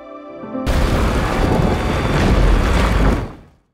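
An explosion blasting a mountain: a sudden deep roaring boom that bursts in after a brief quieter moment, rumbling loudly and evenly for about three seconds before cutting off.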